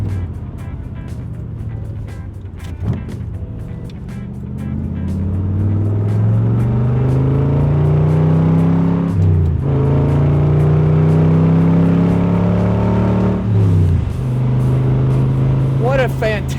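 Chevrolet Corvette L36 convertible cruising at highway speed around 2,700 RPM, a loud, steady engine drone with wind and road rumble, the pitch climbing gradually as it pulls along.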